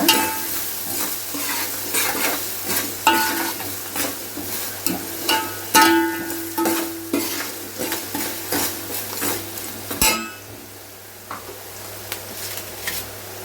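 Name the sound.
onions frying in a pan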